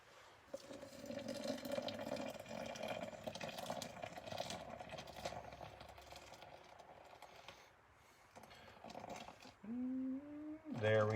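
Hot water is poured over coffee grounds in a French press, a steady splashing trickle lasting several seconds, then fading before a few brief clinks and a rising whine near the end.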